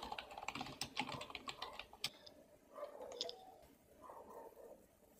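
Quick typing on a computer keyboard: a faint run of rapid key clicks for about two seconds, then a few softer taps and quiet room noise.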